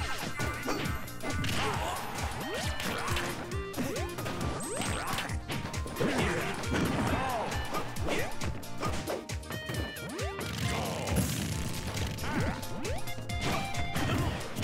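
Rapid attack hits from a Super Smash Bros 4 tournament match land as a dense stream of smashes, thwacks and whooshes over a busy game mix, with loud impacts arriving every fraction of a second.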